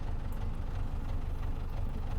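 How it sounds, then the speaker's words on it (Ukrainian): Tractor engines in Farming Simulator 22 rumble steadily at low pitch, a continuous near idling drone with no talk over it. "Їхали тепер додому, заводимо трактори"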